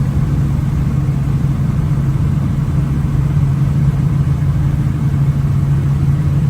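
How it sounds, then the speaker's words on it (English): A 1969 Chevrolet K10 pickup truck drives along with a steady, loud low engine drone and road rumble, an even mid-pitched hum that holds constant throughout without a break. "Good driving truck."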